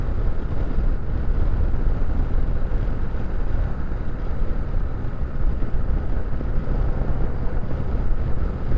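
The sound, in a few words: wind noise while riding a KLR650 motorcycle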